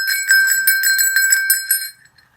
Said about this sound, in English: Well, Anja, I have a special bell just for you.